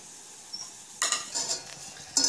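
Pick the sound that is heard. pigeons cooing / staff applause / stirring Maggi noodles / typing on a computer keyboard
stirring Maggi noodles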